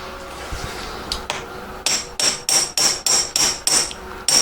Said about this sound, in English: Obviously I can only tap it down until my hammer's hitting the surface of that.